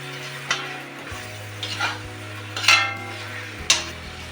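Mutton curry being stirred in a pot just after fried potatoes go in, with a few scraping spoon clinks and light sizzling over a low background hum.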